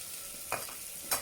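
Vegetable pieces and beans are stir-fried in a pressure cooker for vegetable rice, giving a quiet sizzle with two brief scraping stirs of a spoon.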